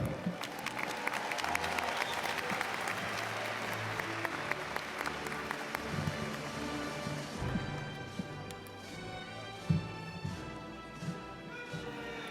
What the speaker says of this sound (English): May we applaud them in memoriam.